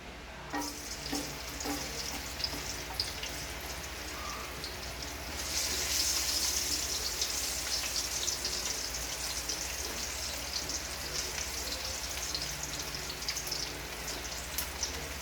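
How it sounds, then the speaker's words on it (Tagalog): Steady sizzling and crackling of garlic and onion sautéing in hot oil, growing louder partway through, with occasional stirring clicks. "Igisa na natin ang ating bawang sibuyas."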